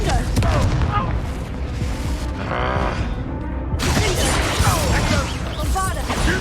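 A Confringo blasting spell goes off during a duel in Hogwarts Legacy, with loud booms and crashing impacts. Spell sounds and a spoken voice mix throughout.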